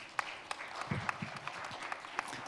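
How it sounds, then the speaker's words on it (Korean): An audience at a science and technology policy forum applauds to welcome the moderator of a startup panel discussion. The applause is faint and distant, a thin patter broken by a few sharper claps. "박수로 맞아주시면 감사하겠습니다"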